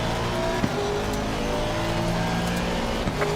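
Race car in Assetto Corsa Competizione racing with another car close alongside, steady loud engine drone with a subtle shift in pitch as the cars run side by side, no talk.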